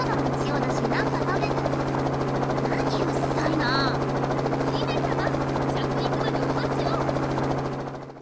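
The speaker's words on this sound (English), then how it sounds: "It looked like the helicopter had circled back and was hovering above the grass" A helicopter hovers in the visual novel game Kinkoi: Golden Loveriche, a steady droning rotor hum holding constant throughout, with faint voice sounds over it before fading slightly at the end.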